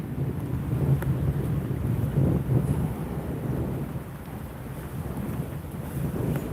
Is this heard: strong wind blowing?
yes